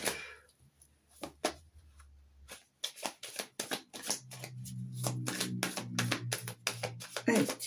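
Tarot cards are shuffled by hand up close, a run of crisp riffling bursts and soft slaps in an uneven rhythm, with brief quiet gaps and a low murmur of voice underneath.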